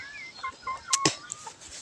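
A few chickens clucking and squawking softly nearby in short bursts, with a quick sharper cry in the middle.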